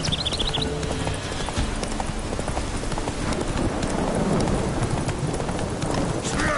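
Roach, the horse in The Witcher 3, trots steadily with rapid hoof clip-clops over a rough background of wind or rain, and a few faint chirps are heard near the start.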